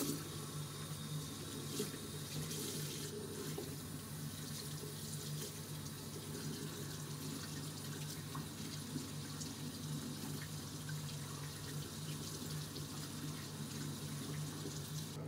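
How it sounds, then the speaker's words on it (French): Tap water runs steadily into a bathroom sink while face cleanser is rinsed off the skin, a constant close splashing flow with no voices. "j'ai rincé le gel nettoyant pour la peau"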